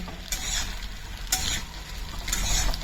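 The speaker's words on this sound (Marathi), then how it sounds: "आता हे वाटाणे तेलात घातलेले आहेत आणि पाच ते सहा मिनटं त्याला छान असे परतून घ्यायचे आहेत तेलावर" Green peas sautéing in oil for a rustic Maharashtrian curry, with stirring sounds in three brief bursts over a steady low frying sizzle; no talking.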